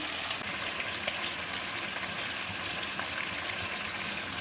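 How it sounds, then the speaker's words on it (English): Chicken curry pieces browning in a frying pan with a dense, steady sizzle and crackle, close and continuous with no pauses or voices. "I'm just giving it one final turn to brown on the other side"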